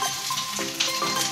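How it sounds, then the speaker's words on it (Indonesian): Mie goreng noodles frying in a pan, a close, brisk sizzle with stirring scrapes through a short burst. "Chef Prima masak mie goreng."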